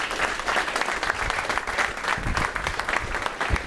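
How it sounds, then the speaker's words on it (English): A crowd claps loudly for a speaker introduced at a business talk, brisk, dense applause lasting a few seconds with no voices. "without any further ado, a huge round of applause for Joshua Latimer."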